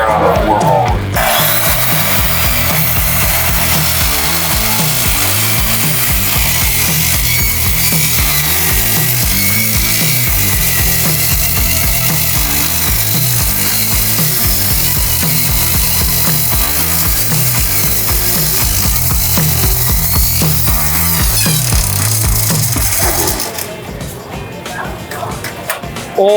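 A power tool rolls on four rollers and cuts and bevels an edge in a single pass, making a loud, continuous grinding whine that holds steady for over twenty seconds, then stops abruptly near the end.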